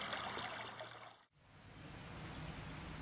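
Creek water runs over a creek bed as a faint, continuous hiss. A short dip breaks the flow midway, and no one speaks.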